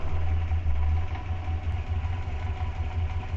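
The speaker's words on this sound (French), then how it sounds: "on va mettre en route la voiture pour que le moteur atteigne sa température de fonctionnement" A Renault 4L engine idles steadily while warming up to operating temperature, a loud, constant low rumble with even vibration and no talking.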